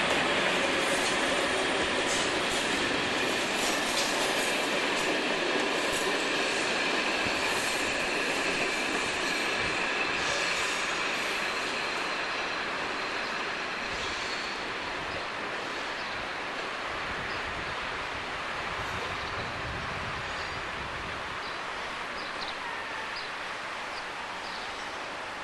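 Simulated train from the Euro Rails game rolling along track near Maastricht, a steady broadband rumble with metallic rail hiss and faint wheel squeal, loud and continuous throughout with no talk.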